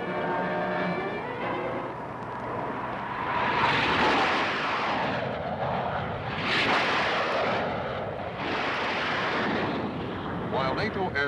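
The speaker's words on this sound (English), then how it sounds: "NATO aircraft are on their way to attack deep in the enemy homeland" NATO military aircraft fly overhead with a loud jet roar that swells and fades in several passes, rumbling near and close by.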